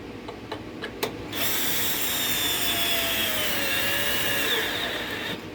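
A power drill drives screws into a wooden pea trestle for indoor gardening, attaching it to the main structure: a few short taps, then one long, steady whine lasting several seconds, close by and loud, with no talking.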